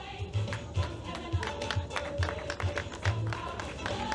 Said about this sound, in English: There's a round of applause for them